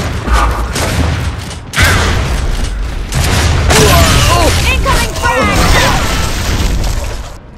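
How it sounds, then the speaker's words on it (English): A frag grenade detonates in Gears of War: Judgment, a loud booming blast with crashing debris and gunfire around it in a busy battle mix, with voices shouting over the action. "Incoming frag!"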